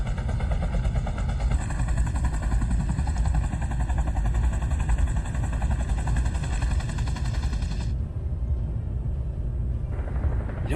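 A light helicopter in the space sandbox game Space Engineers drones loudly and continuously with a pulsing rotor and engine hum, its tone shifting slightly as it flies, with no voices over it.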